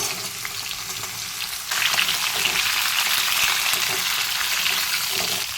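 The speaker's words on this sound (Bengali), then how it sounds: "ভালো করে ভেজে নেবো মানে হালকা করে ভেজে নেবো" Vegetables, including pumpkin, fry lightly in a pan with a continuous crackling sizzle that grows louder partway through as they are stirred, close by and with no voices.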